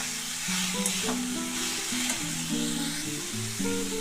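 Banana stem curry sizzles steadily in a hot pan while it is stirred, a continuous close frying hiss with soft scraping through the whole stretch and no talking.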